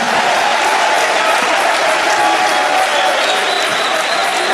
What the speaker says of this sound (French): des présidents que je vous demande d'applaudir fortement